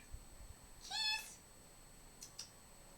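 A cat meows once in the middle of the clip, a short, fairly clear call over a quiet background with faint noise, followed by a couple of brief, softer sounds.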